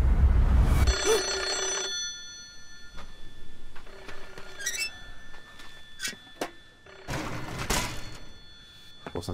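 An old telephone rings inside the Japanese horror game Hollow Cocoon, a bright trilling bell at about 1 s and again around 7–8 s, amid eerie ambient tones and scattered thumps.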